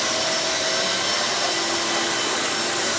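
A Kenmore 600 series bagless vacuum cleaner picks up pet hair, its motor a loud, close, steady whine and roar running without a break, no voices.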